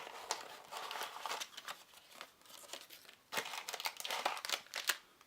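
A small plastic bag from a 2015 RMS International Block Tech toy patrol car set is opened, giving close, irregular bursts of crinkling and rustling.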